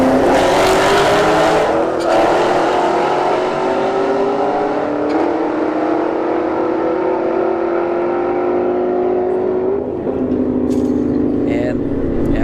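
A Camaro SS and an S197 Mustang launch down a drag strip, engines screaming loudly as they rise through gears and then fade with distance. A race announcer talks over them.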